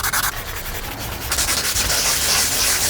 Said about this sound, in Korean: 사포 시작.